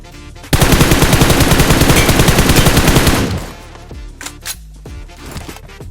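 Rapid automatic gunfire from PUBG, a long loud burst of closely spaced shots lasting about three seconds, followed by quieter scattered game sounds and a few fainter distant pops.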